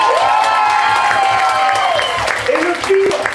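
Audience applauding a baby performer at an anniversary show, steady clapping and cheering mixed with children's voices and talk, one high tone near the end.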